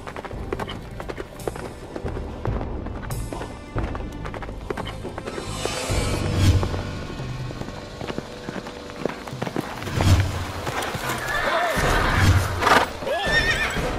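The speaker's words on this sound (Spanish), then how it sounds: "El caballo de José Antonio." A horse gallops with rapid clip-clop hoofbeats and lets out loud neighs and whinnies, running close by amid other activity in a dramatic scene.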